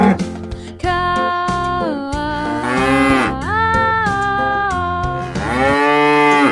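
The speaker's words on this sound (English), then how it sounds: "Yes, cow." Cow mooing repeatedly in long, loud, drawn-out lowing calls with rising and falling pitch, several moos in a row close to the listener with no talk over them.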